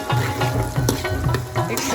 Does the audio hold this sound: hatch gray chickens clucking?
no